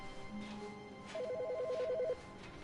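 A telephone rings in The Stanley Parable video game, a short burst of rapid electronic trilling heard fairly faintly over quiet background hum, with a brief earlier tone.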